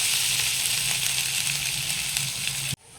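Vegetables stirred in a pan with poppy seed paste and grated coconut for a sweet ridge gourd shukto, giving a steady close sizzle and frying hiss that cuts off abruptly near the end.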